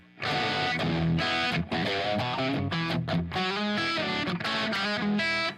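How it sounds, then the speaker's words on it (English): Distorted electric guitar played through an Echoplex preamp into an Orion tape echo, with dense sustained chords and riffs trailing repeats. Loud and continuous, with short gaps between phrases and no voices. "I'm using the Echoplex preamp sound on this."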